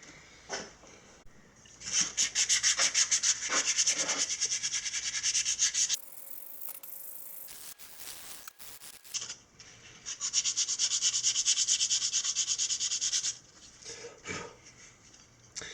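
A wooden board is hand-sanded with 220 grit sandpaper, giving steady, close rasping strokes in two long bursts separated by a quieter pause, with no talking.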